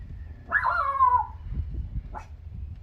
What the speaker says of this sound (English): I ain't heard you bark like that before.